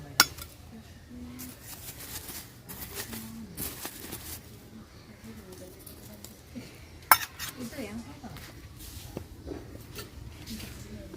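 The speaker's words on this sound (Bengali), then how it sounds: "গরম তো, হাত দিয়ে তোলা যাইতো না, তাই চামিচ দিয়ে তুলতেছি।" A metal spoon scrapes and clinks against a pan while scooping out hot roasted mangoes, with soft shuffling scrapes and a few sharp, louder knocks. Someone speaks quietly over it.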